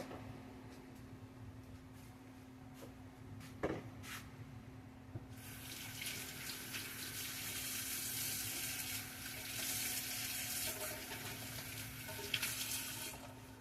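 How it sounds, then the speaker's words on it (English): Hands being washed under a running kitchen tap while cooking chicken sloppy joes, a steady broadband rush of water that starts partway through and continues to the end, with a faint sink clunk before it; no talking. "Make sure you wash your hands."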